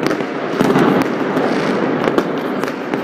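A New Year fireworks salute crackles and pops steadily, with bursts and firecracker snaps overlapping in a dense, loud barrage close by, and no clear talking.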